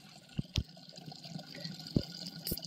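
Water runs into a plastic jerrycan outdoors at a cattle-herding spot in the Nepali hills, a soft continuous trickle broken by a few sharper splashes and knocks, fairly faint and with no one talking.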